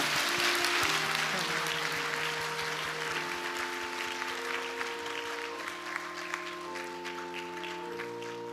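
A church congregation at a Sunday service applauds steadily for several seconds, a dense, even patter of many hands, while sustained organ or orchestral chords play beneath it.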